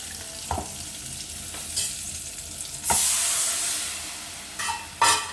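Dried fish sizzles steadily in oil in a pan, broken by a few sharp stirring scrapes and a louder hiss as masala is added.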